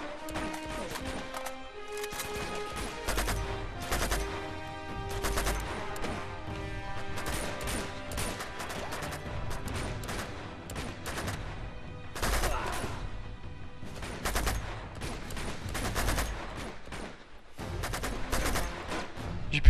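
Repeated gunfire bursts and shots crack out over tense orchestral game music in Uncharted 2, with dense volleys and scattered single blasts throughout, loud and continuous.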